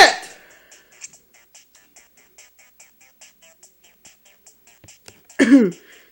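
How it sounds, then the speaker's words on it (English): A single hoarse cough bursts out near the end, preceded by a throat-clearing sound at the start, over a regular ticking of electronic beeps from the Nintendo Badge Arcade game. "Sorry, I kind of coughed there for a second."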